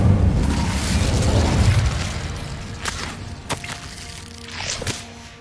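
Incendio fire spell cast in the Hogwarts Legacy video game, a loud rumbling whoosh of flame that swells over the first two seconds, then fades into crackling with a few sharp pops and flickers near the end.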